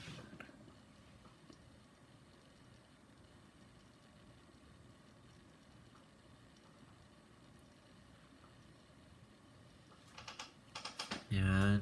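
Password being typed on a computer keyboard at a login screen during a Windows Vista install on a Medion MT6 desktop, a steady run of soft, quiet keystrokes ending in a few louder, heavier key presses.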